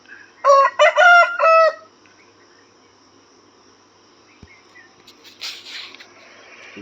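A rooster crows loudly once near the start, a long harmonic call, followed by quieter rustling and faint chirps in the background.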